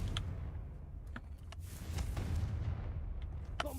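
The Confringo fire spell from Hogwarts Legacy sets off a few short, sharp blasts that crack over a low, rumbling background, moderately loud and spread across the moment.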